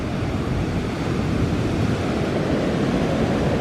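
Ocean waves breaking on a Northern California beach in July, a loud steady roar of surf and white water with wind rumbling against the microphone throughout.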